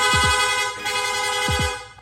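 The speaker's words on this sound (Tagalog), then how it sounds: "Rapid horn." A motorcycle's rapid horn gives two quick pairs of short beeps, a double toot near the start and another near the end, over a steady engine hum.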